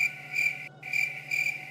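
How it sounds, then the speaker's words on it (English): Crickets chirp in steady pulsing bursts, a close, bright trill repeating about every half second over a low constant hum, with no voices. "The crickets are here too."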